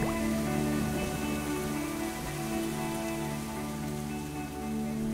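Rain falls on an Osaka evening, a steady, even wash of drops on wet surfaces that continues throughout, joined by sustained tonal hums in the background.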